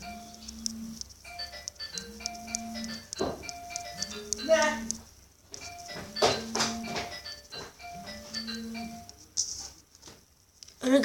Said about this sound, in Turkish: Annemin telefonu çalıyor.